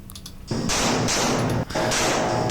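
Gunfire at a USPSA practical shooting match, with several loud close shots booming in quick succession as a shooter moves through a stage, each with a long ringing tail that fills the gaps between them.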